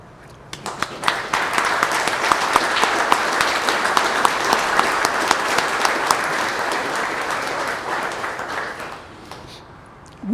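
Community members give a round of applause for police and first responders at a celebration of heroes, loud, dense clapping that swells and holds steady before tapering off near the end.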